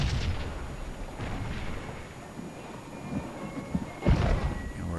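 Artillery fire in a Civil War battle video game set at Fox Gap on South Mountain: repeated deep cannon booms, moderately distant, with a heavier close blast near the end, over a continuous rumbling battlefield background.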